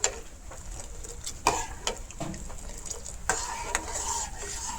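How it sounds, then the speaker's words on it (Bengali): Sugar syrup tinted with mango food colouring boils in a pan, a quiet bubbling hiss broken by a few sharp utensil clinks and scrapes against the pan, with no voices. "ওরকম শিরাটা ফুটিয়ে উঠেছে দেখুন, আর সব চিনিটা গলি গেছে গিয়া।"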